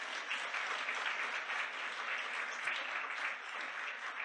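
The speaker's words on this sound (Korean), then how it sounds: "하나님께 영광 박수 올리겠습니다." Congregation applauding at a church ordination service in Korea, steady dense clapping from a large crowd filling the hall, sustained and even throughout with no talking.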